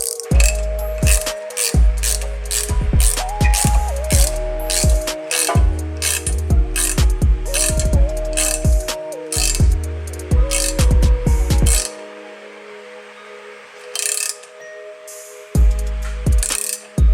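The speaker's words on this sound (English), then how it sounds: "we're going to get the ratchet and go ahead and crank down on this" A ratchet cranks down on a boost controller part clamped in a vise, making close, irregular bursts of clicking and clanking with brief pauses and quieter stretches.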